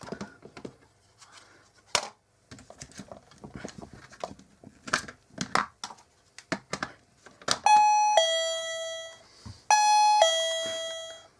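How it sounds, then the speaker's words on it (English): A plug-in door chime wired to a homemade koi pond filter water level alarm rings out twice with a bright electronic ding-dong melody, following a stretch of scattered clicks and handling noises in a workshop. "I got it on just a normal door chime at the moment."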